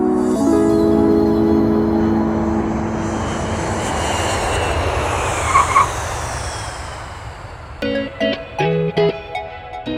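A Cessna 172 drones steadily in flight with a loud, close, continuous propeller engine roar. Toward the end, brief musical tones and beeps cut in over the engine.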